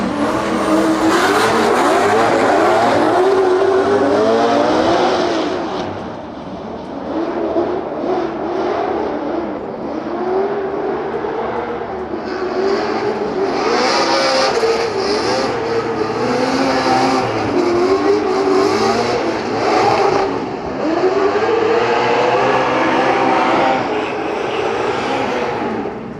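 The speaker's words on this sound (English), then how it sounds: "Dwayne McKeever and Nick now in that HGK BMW, and expect to see something high speed action." BMW drift car run by a professional drift team, engine screaming at high speed during practice at a German drift competition, loud and sustained with shifting revs across the whole stretch, no talk.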